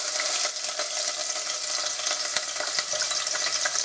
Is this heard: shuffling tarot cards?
no